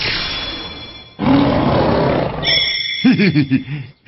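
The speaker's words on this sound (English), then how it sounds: "Look, we all know it's a tiger." A white tiger roars loudly and close, a long rough roar followed by a series of shorter throaty grunting bursts, with no talk over it.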